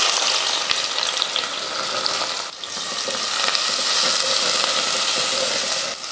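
Sliced onions sizzle and crackle steadily in hot oil with whole spices for mutton biryani, a dense, close frying hiss that dips briefly before resuming with stirring.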